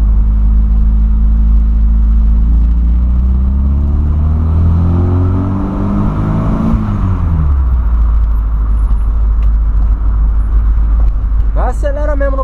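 Engine of a Volkswagen Voyage on a late-night street, revving and accelerating with loud, close low rumble and rising then falling pitch sweeps, with a brief sharper burst near the end; voices talk over it.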